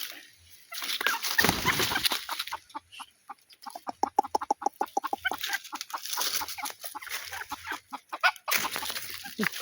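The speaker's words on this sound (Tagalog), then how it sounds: "Ito yung aking inahin." A bantam hen clucks in quick, repeated bursts close up, a busy rhythmic chatter of short calls with brief pauses and rustling in between.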